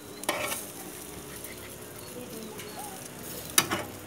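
Food sizzles on the heat at a family BBQ, a faint steady hiss with two sharp metallic utensil clanks near the start and end.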